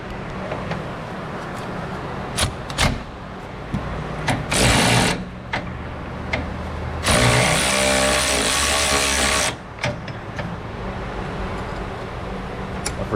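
An air or power tool spins off the nuts holding a brake master cylinder to a Hydro Boost unit, with a short whirring burst followed by a longer, louder run of about two seconds against a steady background hum.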